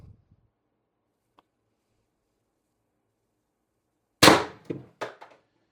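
X-68 Storm Trooper HPA gun at 800 psi fires a single shot: one sharp, loud pneumatic crack after near silence, followed by a couple of quick rattling echoes.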